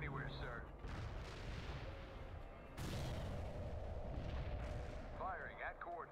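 Heavy artillery in the World in Conflict video game thunders in repeated deep booms over a dense rumbling battlefield, loud and sustained, with radio-style voices talking over it.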